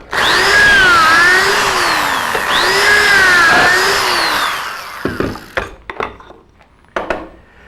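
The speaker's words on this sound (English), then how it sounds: "That step bit, as you can see, drilled both a pocket hole and a guide hole" A Kreg step drill bit cuts two pocket holes into a wood workpiece, each a loud whirring power-drill burst rising and falling, followed by a series of sharp clacks and knocks as the tool is set down.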